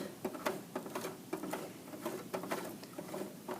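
Domestic sewing machine stitching pillow-back fabric with a steady, fast patter of needle strokes, close and moderately quiet, with small clicks punctuating the rhythm and no voices.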